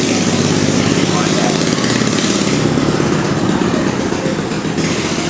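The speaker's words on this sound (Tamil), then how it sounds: "சவுண்டு கேட்டு பெரிய வண்டியாக நினைச்சாதீங்க, ஸ்ப்ளெண்டர்." A Hero Splendor small motorcycle engine runs steadily nearby, a continuous buzzing putter that stays at an even level throughout.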